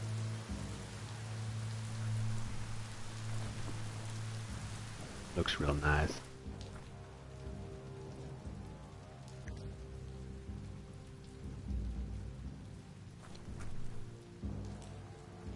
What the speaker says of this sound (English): Game has a nice effect when it rains on vertical surfaces.